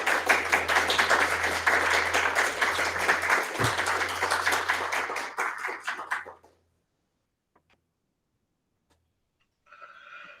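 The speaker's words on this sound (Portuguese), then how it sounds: "Foi gostoso ouvir as palmas aí para o Lucas" A live audience claps for a speaker named Lucas after his presentation at an academic session on Novalis and Friedrich Schlegel: dense, steady applause for about six seconds that cuts off abruptly, followed by near silence and a faint noisy burst at the end.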